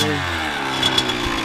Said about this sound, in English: just remember to try not to over rev it